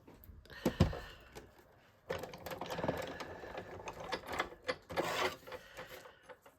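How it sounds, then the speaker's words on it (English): A die cutting machine running for papercraft card making: a few light clicks, then steady mechanical whirring and clattering that pulses in volume for several seconds. "Let me get my die cutting machine out."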